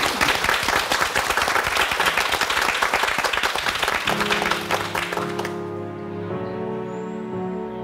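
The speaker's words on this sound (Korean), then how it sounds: "박수 보내주시기 바랍니다" Audience applause in a Korean morning TV talk-show studio, a thick wave of clapping that fades as a sung performance with instrumental backing begins.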